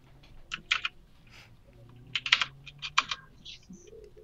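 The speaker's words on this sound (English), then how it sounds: "are you actually typing that in?" Bursts of computer keyboard typing with clustered key clicks, a quick run then pauses and another flurry, close and fairly clear, with faint background voices during a Dragon Ball Z modpack game session.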